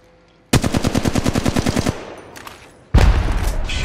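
Rapid automatic weapon fire in the Apex Legends Mobile battle royale game: a loud, close burst of about a dozen evenly spaced shots, a brief lull, then another dense volley.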